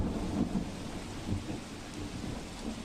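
Heavy rain during a storm in Vadodara: a dense, continuous roar of falling rain with deep, low thunder rumbling underneath, steady and fairly loud, no voices.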